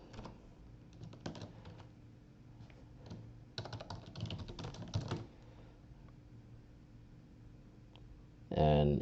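A password is typed on a computer keyboard in a few quiet bursts of rapid key clicks separated by pauses, with a low steady hum behind them and a brief thump at the end.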